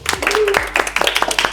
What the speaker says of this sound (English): Let's give a round of applause to Chef David.